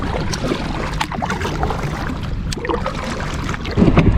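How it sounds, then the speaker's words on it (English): A passing boat at sea off Tybee Island, Georgia, sends a wake toward a kayak, heard as continuous water sloshing and wind rumble with a louder splash near the end. "here's a boat that's going by, creating a little bit of a wake"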